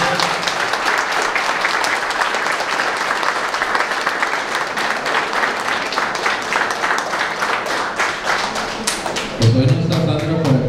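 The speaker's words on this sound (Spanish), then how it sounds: "pues denle un aplauso bien fuerte a los nuevos." Wedding guests applaud the newlyweds at the close of a church ceremony: loud, sustained clapping from a crowd with some individual sharp claps standing out, and voices rising near the end.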